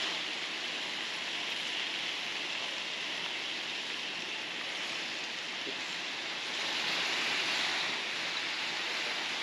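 Marinade hits a steak on a grill, setting off a loud, steady hiss of sizzling that swells slightly near the end, continuous and close, with no talk.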